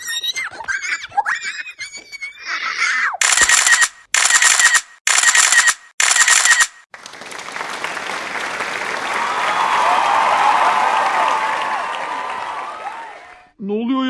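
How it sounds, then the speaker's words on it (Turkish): Applause plays inside Genshin Impact, bursting in four short blocks that break off sharply before a long swelling wash of crowd-like noise takes over, with a player's voice talking over the opening seconds. "Alkış sesleri nereden geliyor?"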